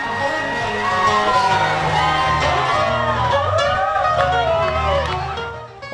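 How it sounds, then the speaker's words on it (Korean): Big crowd at a country music party in heavy rain roars, whoops and whistles continuously, loud and dense, with sliding high shouts layered over the din. "소리 지르고 휘파람 불고 난리 났어."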